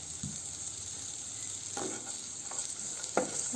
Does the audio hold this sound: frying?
yes